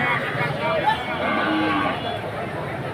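Local cows at a busy rural cattle market low and moo over steady crowd noise, with overlapping calls from several animals at moderate distance.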